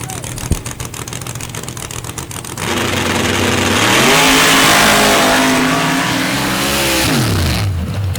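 A nitrous-fed dirt drag racing car at a night event makes its pass, starting with a sputtering, popping idle before the engine bursts into a loud, sustained roar that climbs and holds, then drops off near the end.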